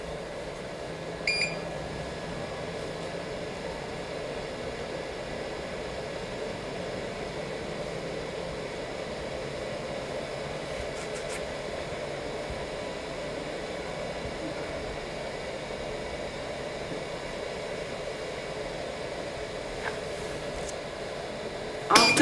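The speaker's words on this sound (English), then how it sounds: "Cover the machine and press vacuum." A 3D sublimation machine's vacuum pump runs for about twenty seconds as a steady, even whir and hiss with no change in level, ending in a brief louder burst at the end.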